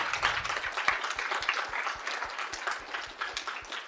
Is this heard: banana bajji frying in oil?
no